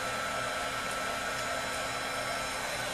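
A heat tool blows a steady, loud, unbroken hiss of hot air while warming 651 vinyl laid over a painted canvas, with no talking.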